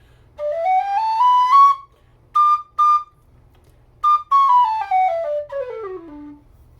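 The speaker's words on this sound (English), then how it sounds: "This was my very first Carbony whistle" A Carbony carbon fiber whistle plays a clear, pure melody: sliding and stepped phrases, short repeated notes, then a long descending run, close and alone with quiet gaps between phrases.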